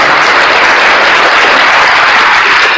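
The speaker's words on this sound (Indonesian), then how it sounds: "Tepuk tangan buat Tuhan, tepuk tangan buat Tuhan." A crowd applauds at a Christian gathering, a loud, dense, continuous burst of clapping that fills the whole short stretch with no voices on top.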